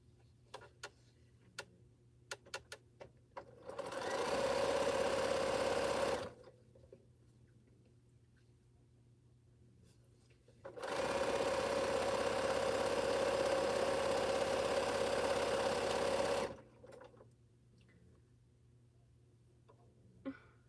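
A sewing machine stitches quilt strips in two sustained runs of steady, buzzing whirr, close and even, separated by quiet pauses with light ticks and clicks.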